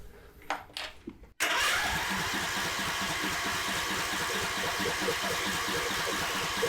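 A lawn tractor engine is test cranked: brief handling noises, then the starter kicks in and a loud, fast, steady rhythmic cranking chug continues for several seconds without catching.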